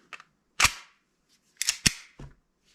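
An empty Umarex Glock paintball pistol has its slide worked and locked back, giving a few sharp, crisp metallic clacks close by, with short pauses between them.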